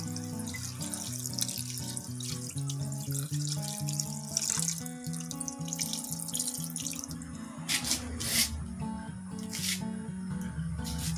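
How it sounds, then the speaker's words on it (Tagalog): Coconut milk pours into a pot of simmering fish stew, a steady close liquid splash and gurgle with shifting tonal glugs, ending in a few bright drips and pours, no talking. "Pwede na natin ibuhos itong pangalawang gata."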